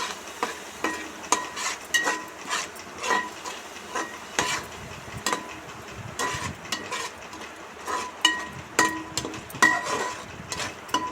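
Pudina (mint) rice being stirred and fried in oil in a pan, with a steady sizzle under repeated scraping strokes of a spoon against the pan, close and moderately loud throughout, no talking.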